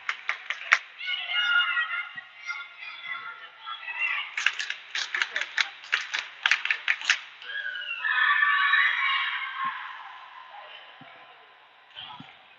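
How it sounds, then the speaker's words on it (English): Cheering and clapping from a small crowd in a gym at a girls' junior varsity and varsity basketball game, coming in bursts with scattered sharp claps and voices, then easing toward the end. "Got some cheering going now."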